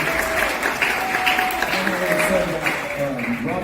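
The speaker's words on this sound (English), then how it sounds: "So we're going to get a round of applause." A steady round of clapping from an audience at a Chandler Prep school sports awards event, saluting a senior first-team baseball pitcher; dense and sustained with a few voices calling out through it.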